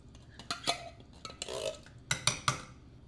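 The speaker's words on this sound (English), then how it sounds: "at this point, we're going to add the beans" Kidney beans are spooned into a pot of chuckwagon chili with beans, giving wet plops and scrapes of a utensil against the pot in irregular bursts, close and fairly quiet.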